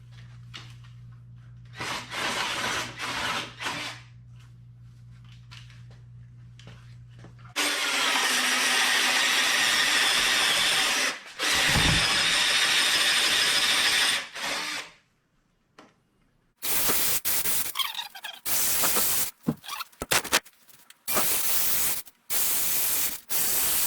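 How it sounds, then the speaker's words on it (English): A power drill whirs in several bursts while drilling many holes for a swinging deck day-bed build, loud and close, with stops and restarts between holes and some quieter handling noise in the gaps. "time to drill many holes"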